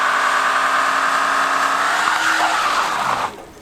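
A Mercedes-Benz E-Class turbo diesel on the 211 chassis doing a burnout, tires squealing loudly and continuously over the engine's drone, then cutting off abruptly near the end.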